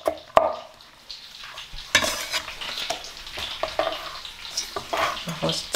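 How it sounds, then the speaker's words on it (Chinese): Bacon fries in a pan with a soft continuous sizzle, while sharp knocks and clatter from nearby kitchen prep for a roast turkey stuffing punctuate it at close range. "bacon让它煎着"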